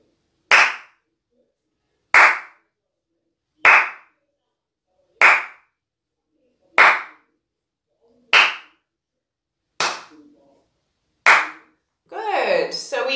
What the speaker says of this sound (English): One more clapping pattern.